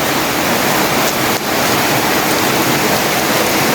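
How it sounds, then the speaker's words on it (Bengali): Heavy rain pouring down in a dense, hissing, steady wash close to the microphone, unbroken except for one brief bump, with no voices. "প্রচুর পরিমাণে বৃষ্টি পড়তেছে।"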